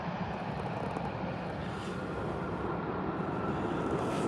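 An EasyJet Airbus A320 jet arriving at Birmingham airport, a steady loud broadband engine roar holding evenly throughout with no talk.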